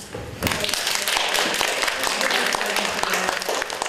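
Class standing up and clapping hands at the end of a focus group discussion, a busy, uneven spatter of claps and thumps starting after a short quiet lead-in, with voices mixed in.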